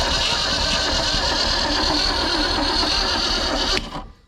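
Starter motor steadily turning over the engine of an abandoned 1973 Mercury Comet GT, which is suspected of being stuck and gets no fire. Loud, continuous cranking that does not catch, then cuts off abruptly near the end.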